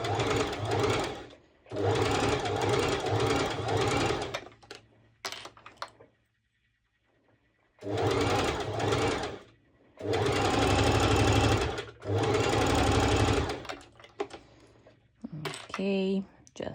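A sewing machine stitches a cover-up dress in several rapid mechanical bursts of a few seconds each, separated by pauses, close and clear. A brief clatter sounds at the end.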